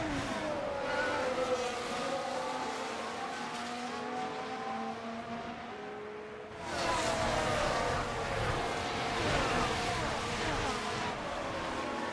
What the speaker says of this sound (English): Listen to those engines go.